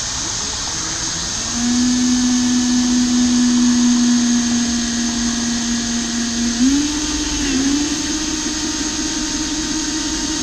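A power drill runs continuously with a steady, close motor whine that dips slightly in pitch near the end, shortly before a drill bit breaks. No one speaks.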